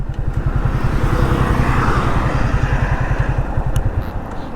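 Yamaha FZ-25 BS-6 motorcycle idling in neutral, a close, loud, steady low thrumming engine pulse with slight mechanical clatter and no revving.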